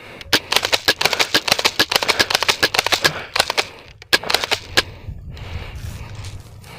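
Rapid bursts of sharp airsoft gun shots during a spring airsoft skirmish, clustered clicks firing in quick irregular volleys, then trailing off into quieter rustling near the end.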